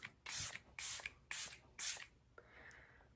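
Four short hissing bursts of Hard Candy makeup setting spray from a pump bottle, evenly spaced and close, followed by a softer rustle.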